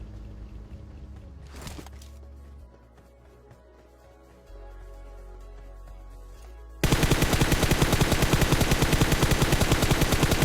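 Gunfire from the video game PUBG: after quieter in-game ambience with one sharp shot, a loud, continuous burst of rapid automatic fire fills the last few seconds.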